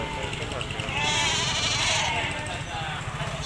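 A goat bleats in a long wavering cry close by, mixed with people talking in the background at a large goat and sheep market in Kolhapur.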